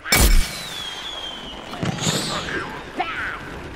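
Gunfire in the Plants vs Zombies Garden Warfare shooter game: a sharp loud blast opens, followed by a sweeping whoosh and a few softer thumps and pops further off.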